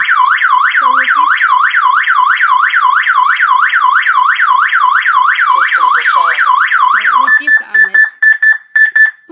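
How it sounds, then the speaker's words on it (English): A WSR-01 wireless alarm siren sounds during an SOS emergency test, a loud, close, rapidly wailing up-and-down tone repeating steadily, then switching to a flat beeping tone that pulses in short bursts. "Now we press SOS emergency to test that the siren is"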